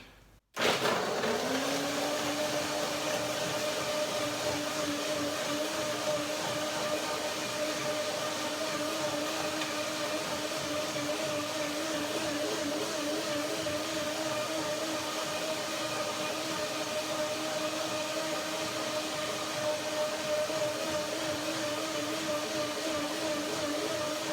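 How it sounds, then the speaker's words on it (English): A blender starts abruptly and runs at a steady high whir, blending macadamia nuts with water, a loud continuous motor drone with a gritty grinding texture and no pauses. "The blender can go to work, it's easier with a little bit of water."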